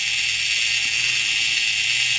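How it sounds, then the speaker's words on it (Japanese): The self-timer of a 1965 German-made Leica M2 rangefinder camera runs with a steady, even mechanical buzz that stays close and unbroken for about two seconds, with no talking. "このレバーをグッと下まで下げていただいて、このスイッチでスタートいたします"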